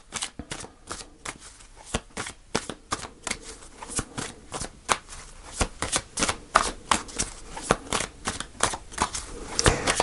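Tarot cards shuffled by hand at close range, a steady run of crisp riffling bursts and slaps that grows denser and louder toward the end, with no voices.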